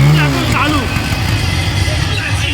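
A second-hand TVS Apache motorcycle at a used-goods fair in Bishnupur, its engine running at a steady idle, close by, with someone talking over it.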